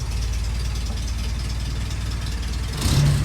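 A Willys jeep engine that had sat unused for 15 years runs with a rough, low, steady chugging idle, close by, then a brief surge of louder, harsher noise near the end.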